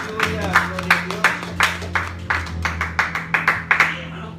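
A church congregation claps in a loose, rhythmic beat of distinct, fairly close handclaps during a sermon, with a low sustained tone and some voices underneath.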